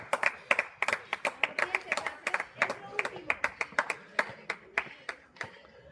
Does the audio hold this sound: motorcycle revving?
no